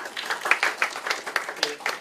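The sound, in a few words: applause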